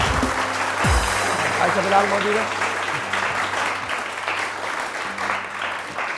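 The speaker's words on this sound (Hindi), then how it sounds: "बहुत सारी तालियां आयशा के लिए" A studio audience on a TV morning show applauds in a dense, steady patter while a presenter's voice speaks over it.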